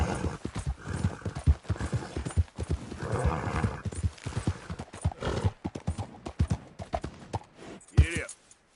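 Horse hooves clip-clop at a riding pace in Red Dead Redemption 2, a steady close rhythm with a neigh near the end, while someone talks over it.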